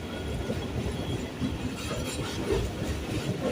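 Local train running from Majherhat to BBD Bag, a steady low rumble of wheels and carriages rolling along the track, heard from inside, continuous and fairly quiet.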